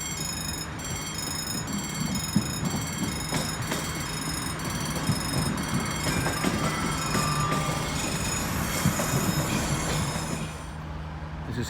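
A train at Coimbra B station in Portugal rumbles steadily for several seconds, with sustained squealing wheel tones and rail noise that stay loud throughout before easing at the very end.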